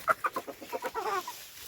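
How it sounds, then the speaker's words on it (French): Pearl grey Pekin bantam rooster scuffling with other chickens, a quick run of sharp clucks and squawks in short bursts, close and moderately loud, ending in a brief agitated call. "le petit coq gris perle, il est là. Voilà, il se bat avec les autres"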